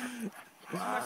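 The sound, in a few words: dog barking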